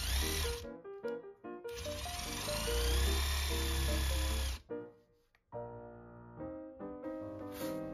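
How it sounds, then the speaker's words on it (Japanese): A power drill bores holes in a succulent's plant pot during repotting of an Aeonium Kurohoushi Nishiki: a loud, steady whining drone runs for several seconds, briefly cuts out and restarts, then gives way to a lower, humming motor tone. "穴を開けてみます。"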